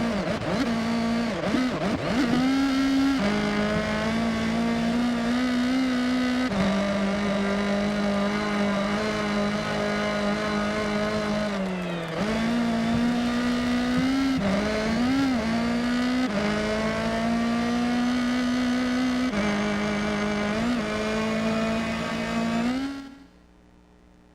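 A rotary-engine race car in a video game revs loudly and continuously, its high buzzing pitch climbing and dropping with repeated gear shifts before cutting off abruptly.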